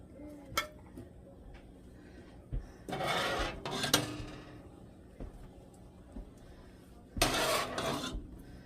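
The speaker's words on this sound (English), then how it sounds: "I'm scratching the pan, huh?" A metal utensil rasps and scrapes across a cooking pan of Frito pie in two loud bursts, with quieter clinks and rubbing in between, close and without talk.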